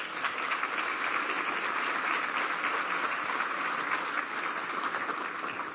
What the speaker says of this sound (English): So please give them a gigantic round of applause as well.